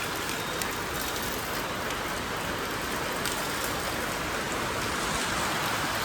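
Steady rain falling in New Alipurduar, a dense, even hiss of drops pattering on surfaces that holds constant from start to end with no pauses, fairly close and filling the whole scene.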